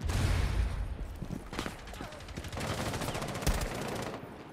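Video game gunfire in rapid automatic bursts, loud sharp cracks repeating throughout in dense volleys.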